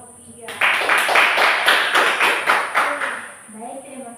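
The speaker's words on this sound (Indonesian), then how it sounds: "Tepuk tangan untuk kelompok 3." A classroom audience applauds a student group's presentation: a short, rhythmic burst of clapping lasting about three seconds, with voices speaking just before and after.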